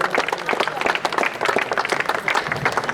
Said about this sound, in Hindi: जोरदार तालियों से, जोरदार तालियों के साथ